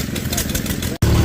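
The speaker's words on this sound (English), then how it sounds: "They've got this hooked up to an old hit and miss motor." An old hit and miss engine chugs steadily while driving a Maytag washing machine at a tractor show, a loud close mechanical thump with a brief dropout, and people talk nearby.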